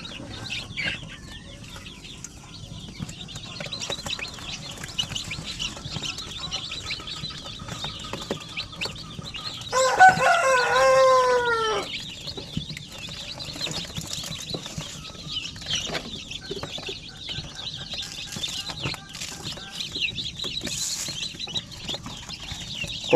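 Newly hatched shamo, aseel and native chicks taken from an incubator peep softly and steadily, with one louder burst of chirping partway through.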